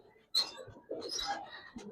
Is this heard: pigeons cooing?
yes